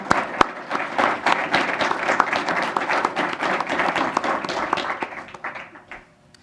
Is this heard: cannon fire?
no